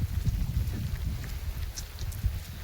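Rain falls outdoors in a soft, steady wash with a low rumbling undertone, fairly faint and without any talking.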